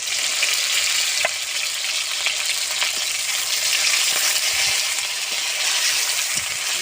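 Chopped onion and tomato fry in mustard oil with a loud, dense, continuous sizzle and crackle that stays even throughout, without any voices.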